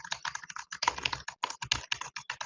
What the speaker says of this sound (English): this is what it sounds like with typing going on in the background